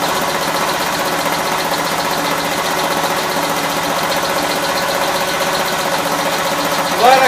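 A freshly built 450 engine runs on its first start with a steady, loud idle and a persistent mechanical noise mixed into the drone. The sound holds constant for about seven seconds, ending with a brief rise.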